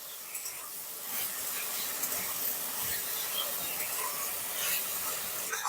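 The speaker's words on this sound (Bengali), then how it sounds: "হালকা আঁচে নাড়াচাড়া করতে করতে ফুলকপিগুলোকে বেশ ভালো করে একটু ভেজে নিতে হবে" Cauliflower pieces frying over low heat in a pan for samosa filling, a soft continuous hiss with faint stirring scrapes, quiet and close.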